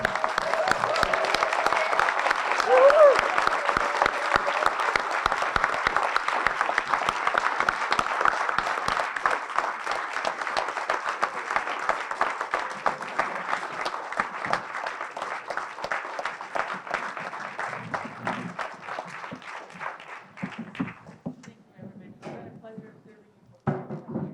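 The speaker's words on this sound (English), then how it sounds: "Please stand up and join me in a very loud applause celebrating Rosemary." Sustained loud applause fills a room of townspeople at a town meeting, with dense clapping from a large crowd that slowly thins and fades over about twenty seconds.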